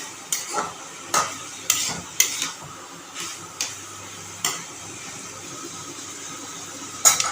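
Ridge gourd with poppy seed fries in a pan, a low sizzle underneath while a spatula stirs and scrapes in sharp repeated strokes, roughly one every half second to second, close and fairly quiet.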